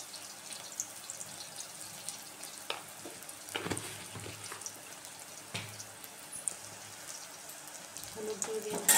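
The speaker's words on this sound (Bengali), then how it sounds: "বেগুনটা প্রায় ভাজা হয়ে এসছে" Eggplant (brinjal) frying in oil in a pan gives a steady close sizzle, broken by a few sharp scraping and stirring knocks and growing louder toward the end.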